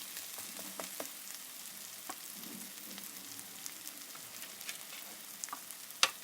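Onions fry lightly in a pan while an egg tikki is being made, giving a steady close sizzle with scattered crackles and a sharp clink near the end.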